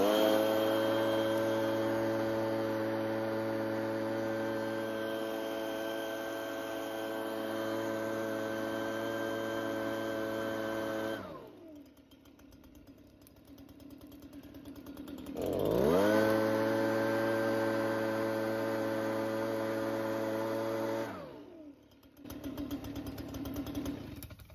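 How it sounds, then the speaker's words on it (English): A powered blower runs steadily beside a burning fire of wet scrap wood, a loud close motor whine that stops and winds down twice, then starts up again, without speech. "it's not burning great, but it is burning, especially with some help from the blower"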